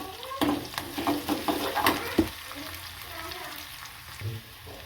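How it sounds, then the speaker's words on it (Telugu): Onions browning in hot oil for menthaaku pappu, a Telugu fenugreek-leaf dal, sizzle softly while a spoon stirs the pan in a series of close scraping knocks, with the frying fading toward the end. "ఉల్లిగడ్డ కొంచెం ఎర్రగా వేయాలండి ఎర్రగా"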